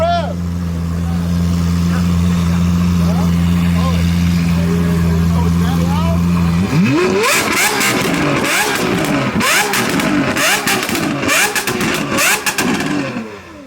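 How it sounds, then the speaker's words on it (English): A 2023 Honda Civic Type R FL5 at a car meet holds a steady engine drone, then revs up sharply partway through. Loud, overlapping crowd chatter and shouting surround the engine noise. "let's get a rev"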